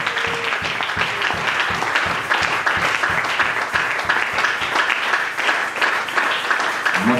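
A church congregation applauds, with sustained, dense clapping that holds steady and loud throughout, a mass of hands rather than single claps.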